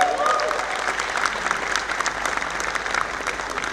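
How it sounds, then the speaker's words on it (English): An audience at a Laracon conference talk claps in dense, even applause that starts strong and continues steadily, filling the hall throughout. "Thank you for that round of applause."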